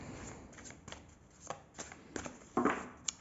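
Soft papery slaps and shuffles as a deck of oracle cards is cut and handled, a handful of short irregular taps close by and quiet, ending with a slightly sharper card snap.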